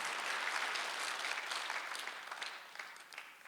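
A congregation applauding during a Sunday church service, steady dense clapping that sounds somewhat distant and fades slightly toward the end.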